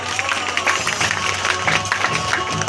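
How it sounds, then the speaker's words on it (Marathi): Clapping and crowd noise from an audience at a Home Minister community event held by Jai Maharashtra Mitra Mandal in Rajapur, dense and continuous with cheering mixed in, steady loud applause throughout. "सगळ्यात आधी आयोजकांसाठी जोरदार टाळ्या झाल्या पाहिजे"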